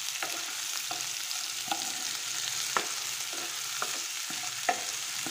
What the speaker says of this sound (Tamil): ஆனியன் கொஞ்சம் நல்லா இதுவாக வதங்கணும்.